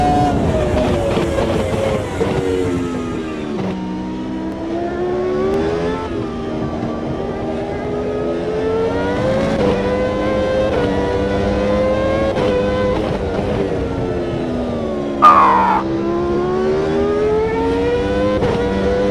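A 2002 Toyota Formula One car engine in a racing game, a loud steady high-pitched whine rising and falling through gear changes and throttle lifts, with a brief sharp spike near the end.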